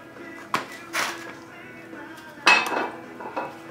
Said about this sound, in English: It's just a matter of pulling the cam out the front.